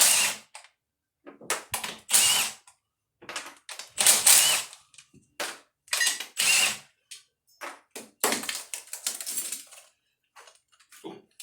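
A ratchet fastening bolts on a Honda Civic valve cover, heard close as bursts of rapid clicking broken by short pauses.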